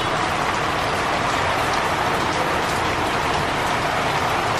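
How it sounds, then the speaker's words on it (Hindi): Monsoon rain pours steadily onto the open terrace of a penthouse apartment in Goa, a dense, even hiss with no breaks, close and fairly loud, and no voices over it. "और ये बारिश हो रही है।"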